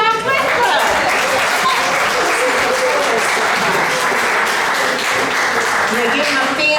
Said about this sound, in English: Come on, y'all, clap it up.